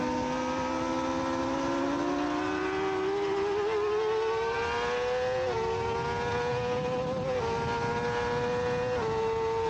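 Yamaha R6 motorcycle racing on track in a 2024 SOAR amateur open sprint, a loud close engine whine climbing steadily in pitch through the gears, with brief dips at each upshift.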